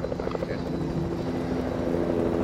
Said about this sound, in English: John took his ass a helicopter